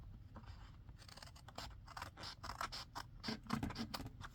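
Scissors trimming paper for a junk journal library pocket: a quick run of close, crisp snips and slicing cuts, repeated rapidly and fairly quiet, with no talking.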